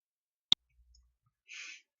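A single sharp mouse click as the Next button is pressed while setting up an MPLAB X project, clear and close, followed by a short breathy sigh.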